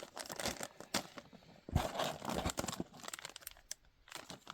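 Plastic packets holding WW2 custom figure heads crinkle and tear open close by in irregular bursts of rustling, with no talking.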